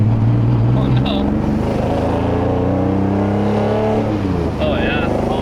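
A BMW E46 fitted with a swapped 3.0 engine running with a hard misfire while driving, its rough, uneven drone steady and close throughout, with people talking over it.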